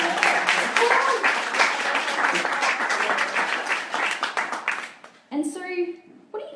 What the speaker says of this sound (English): so feel free for a round of applause